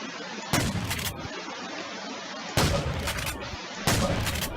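Gunfire in modded Minecraft aimed at an allosaurus: three loud, sustained bursts of rapid shooting about a second and a half apart, each ending abruptly, over a steady noisy background.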